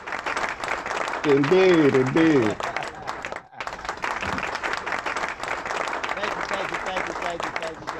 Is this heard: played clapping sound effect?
yes